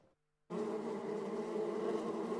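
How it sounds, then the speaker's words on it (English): Bees buzzing, a dense, steady swarm drone that starts abruptly after a brief quiet moment and holds loud and close to the end. "bees can be described as dangerous insects that is not only disturbing with annoying sounds"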